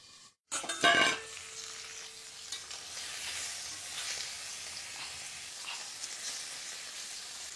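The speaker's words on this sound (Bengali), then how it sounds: "মাছ ভাজা হয়ে গেছে, তুলে নেব।" Fish sizzles steadily in hot oil in a home kitchen pan after a brief clatter, a continuous crackling fry that stays even and fairly quiet throughout.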